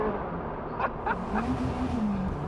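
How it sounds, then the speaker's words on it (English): A Caterham 620S sports car revs hard in third gear, its engine note rising and sustained under heavy wind and road roar, heard from inside the car. "The way the car revs is just alarming."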